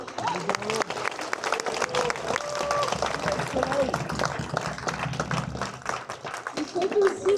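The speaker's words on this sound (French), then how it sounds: "On peut les applaudir bien fort." Sustained audience applause for the bridesmaids at a wedding, dense steady clapping from a crowd throughout, with voices mixed in underneath.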